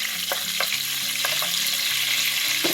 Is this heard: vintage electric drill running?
no